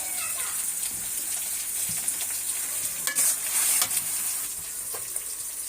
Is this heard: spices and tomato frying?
yes